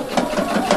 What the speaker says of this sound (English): now I can sew it and close the edge